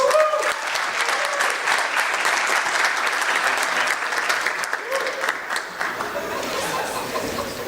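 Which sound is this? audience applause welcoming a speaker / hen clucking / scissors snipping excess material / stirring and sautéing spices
audience applause welcoming a speaker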